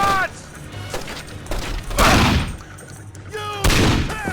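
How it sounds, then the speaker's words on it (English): Video game gunfire rings out in scattered shots and thuds among shouting voices, loud and close, with several separate bursts across the moment. "He's taking shots!"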